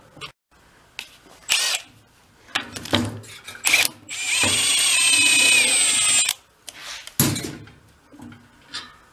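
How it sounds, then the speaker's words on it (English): Impact gun unbolting a part on a VéloSolex moped, a loud sustained burst of about two seconds among clanks and handling noises of tools and parts in a workshop. "Grab the impact gun."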